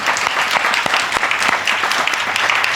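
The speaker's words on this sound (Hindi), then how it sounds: "अभी आपकी तालियां उस न्याय के लायक बजी नहीं जो इनकी न्याय के लिए होनी चाहिए थी।" Sustained applause from an audience at a Jain religious gathering during a chariot procession at Hastinapur, dense and steady clapping filling the space without speech.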